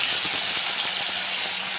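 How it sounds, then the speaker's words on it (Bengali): Fish sizzle in hot oil in a wok, a steady loud bright hiss with faint crackles underneath and no talking. "কড়াইতে তেল দিয়ে দিয়েছি, তেল গরম হয়ে গেছে। মাছগুলো এবার ভেজে নিই।"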